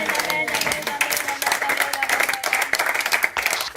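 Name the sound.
congregation applauding and acclaiming the Lord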